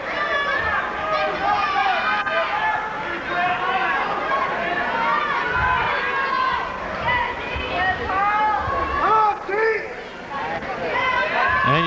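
Spectators at a 1993 Great Bridge vs. Kempsville high school wrestling dual meet shout and murmur in a gym, a steady hubbub of voices with occasional louder calls, heard under a commentator's voice.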